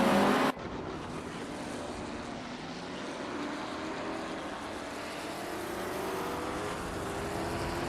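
Race car engines of a McLaren M1B and rival cars in a racing video game, a steady loud droning roar held throughout after a brief sharper burst at the start, with no talk.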